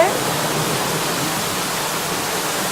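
Water tipped into a giant ten-ton water wheel on an oat farm pours in as a loud, steady rushing gush like a small waterfall, continuing evenly after a brief initial splash.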